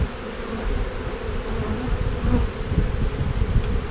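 Steady, dense buzzing of many honey bees close by, a continuous hum with no talking.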